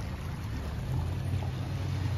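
A high-running stream flows along a neighborhood waterway after recent high water, giving a steady, full rushing wash with low rumble that holds evenly throughout, with no voices.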